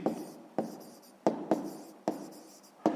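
Pencil writing by hand on paper, up close, with a series of short strokes, each starting with a sharp tap and fading out, in an irregular rhythm and with no voices.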